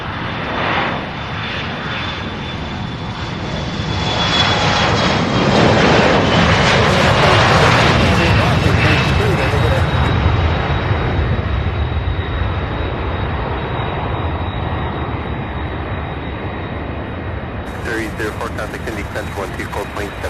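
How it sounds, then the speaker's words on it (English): Jet aircraft engines roar steadily as an airliner taxis at Louisville SDF airport, with MD-11 freighters nearby; the loud, broad whine swells midway and holds, while people talk over it. "Another MD-11 there, getting ready to taxi. We've got this one taxiing"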